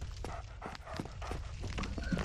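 Hostile dogs in the Lower Undead Burg area of Dark Souls pant and snarl in quick repeated bursts, fairly close and steady throughout.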